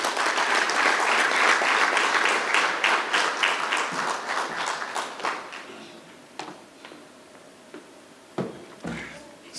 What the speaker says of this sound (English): Can we give Prof another round of applause, please?